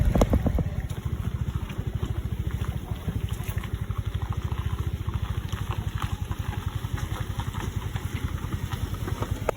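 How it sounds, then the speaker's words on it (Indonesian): A motorcycle idling and puttering close by on a rough village road in Tangsi Atas, its steady low engine pulse running throughout with no talk. "Ada lewat motor, kita pinggirkan dulu."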